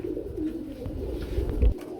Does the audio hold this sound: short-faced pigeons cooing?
yes